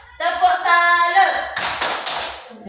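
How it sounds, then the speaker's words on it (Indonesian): Schoolchildren in a classroom perform a rhythmic 'tepuk salut' clapping cheer, chanting together over a patterned sequence of sharp claps and taps that ends in a loud burst of clapping. "Tepuk salut dulu bagi Dodek ya"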